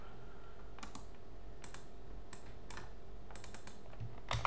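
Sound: computer keyboard typing copy and paste shortcuts

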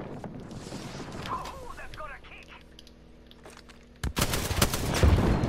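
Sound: gunfire from shooting in a video game

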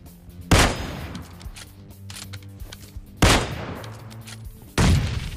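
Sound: grenades exploding in PUBG Mobile Lite video game

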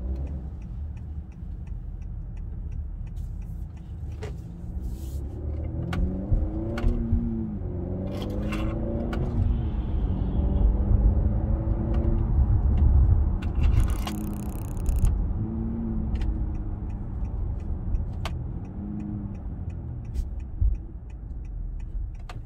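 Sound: turbo spooling up as the car accelerates on the highway

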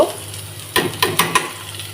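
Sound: dried chillies frying in mustard oil

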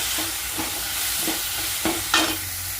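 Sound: tomatoes sautéing in a pan

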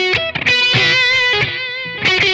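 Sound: guitar echo effect with mild feedback, VOX StompLab

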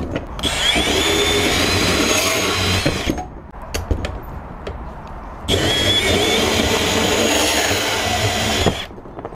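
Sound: Milwaukee compact band saw cutting 3/4 EMT conduit pipe

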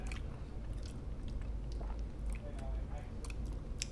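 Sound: biting and chewing a keto black and white cookie

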